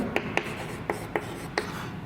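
A pen writes out a maths solution on paper: soft, steady scratching, close and quiet, marked by five light taps as strokes land, with no talking.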